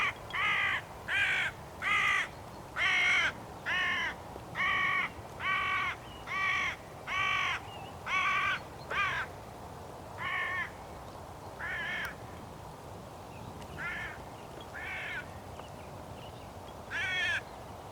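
A hooded crow gives a long series of loud, harsh caws in an evenly paced rhythm, a few quieter and farther off near the end, with no talk.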